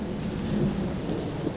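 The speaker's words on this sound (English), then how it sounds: "there's a storm in the background." Rumbling thunder from an approaching storm rolling in, a steady low roar mixed with rain falling, continuous and fairly loud with no talking.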